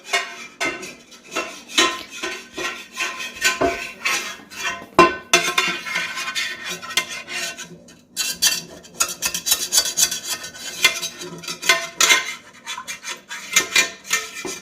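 A spatula scrapes the sides of a pot of homemade posole in a home kitchen, giving a steady series of close, gritty rasping strokes with brief pauses, with no talking.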